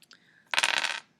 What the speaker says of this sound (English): So I'm going to roll my dice and let's see what I get.